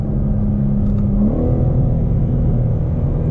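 A 2022 BMW M4 Competition pulling in third gear from about 60, its engine a low steady rumble that climbs in pitch as it accelerates, heard from inside the car.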